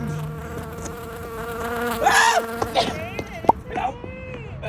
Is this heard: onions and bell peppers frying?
no